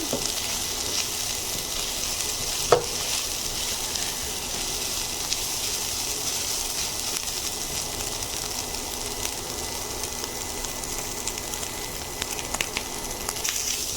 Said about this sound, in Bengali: আমি 1 মিনিট মতো ভাজবো চিকেনটা।